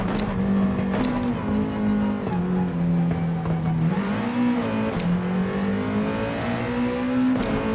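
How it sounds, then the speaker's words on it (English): A Nissan GT-R GT3 race car engine in Gran Turismo 7 drones loudly and steadily, its pitch wavering up and down through gear changes as the car laps the Sardegna circuit, with no voices. "Nissan GTR is an absolute beast in the GR3 or GT3 Gran Turismo racing."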